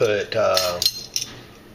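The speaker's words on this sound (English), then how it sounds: "Now I need to dish out my 3 to 6 tablespoons, put in a container with a lid" A spoon clinks against a glass container while non-dairy yogurt is dished into it, giving a few sharp close metallic taps after a brief tonal ring.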